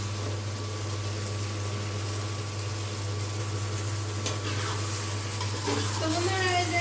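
Chicken kosha sizzles and fries in a pan while being stirred, a steady loud hiss with scraping strokes, and a brief burst of sharper frying near the end.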